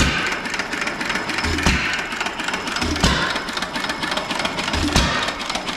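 An old engine running in a shop, with a loud, close, steady rhythmic chugging and regular heavy knocks about every second and a half.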